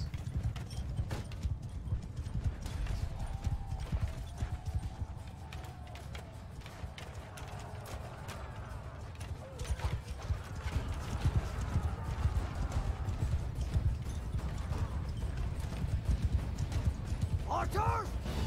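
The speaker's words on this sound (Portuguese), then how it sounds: "Cavalo sem dono, matando minhas tropas." Riderless horse galloping across a Mount & Blade 2: Bannerlord battlefield, steady clip-clop hoofbeats with an occasional whinny, set under a constant din of battle noise and a speaking voice.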